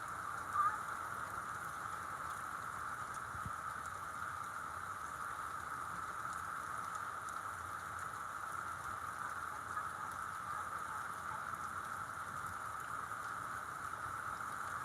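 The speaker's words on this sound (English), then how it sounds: "it kind of rained like this for about an hour" Steady rain falls at the Kentucky Kingdom amusement park, a fairly faint, even hiss that runs unbroken for the whole stretch with no voices.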